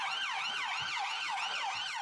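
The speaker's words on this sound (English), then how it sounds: "Ambulance is here now" Ambulance siren wailing loud and near in a steady rising-and-falling sweep, repeating several times with no voices over it.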